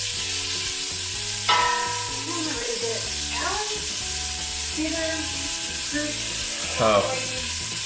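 Gumbo sizzles and fries steadily in a pan while a spoon stirs it, with a few scraping stirs standing out. The frying stays loud and close throughout, and a voice briefly exclaims over it.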